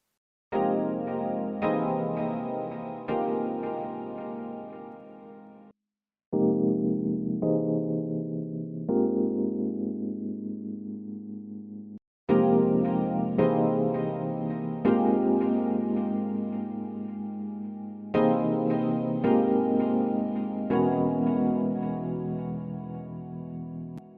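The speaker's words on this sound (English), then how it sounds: "I'm using two different electric piano presets to create the sound." Layered electric piano chords ring out in a slow progression, each chord sustained and fading, with short gaps between phrases.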